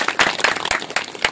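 An audience at a Hindi spiritual discourse gives a short burst of clapping, a quick run of close, crisp hand claps lasting little more than a second.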